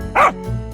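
A single cartoon dog bark, one loud yelping burst, followed by a lower steady tone.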